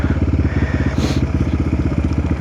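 A motorcycle engine runs steadily while riding on snow, its loud, close, even chugging pulse holding a constant rhythm with a brief rushing swell of wind or snow spray midway.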